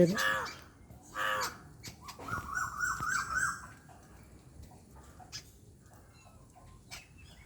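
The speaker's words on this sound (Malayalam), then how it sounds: "പൂച്ചയുണ്ടെന്ന് മറ്റു കിളികളോട് പറയുകയാണ് മറ്റു കിളികൾക്ക് അപകട മുന്നറിയിപ്പ് കൊടുക്കുകയാണ്" Crows cawing in alarm over a hidden cat, several harsh loud caws in quick bursts early on, then fading to quieter background ambience.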